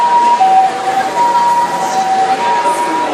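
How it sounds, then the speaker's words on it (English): An ambulance siren on a busy Shibuya street in Tokyo, a steady wailing tone held loud throughout over a dense hum of traffic and crowd. "here we go, ambulance."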